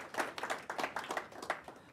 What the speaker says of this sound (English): round of applause for Millie